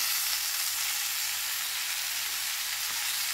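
Mixed vegetables sizzle and crackle steadily as they are stirred and fried in a hot pan, with a continuous, close, even hiss and no talking.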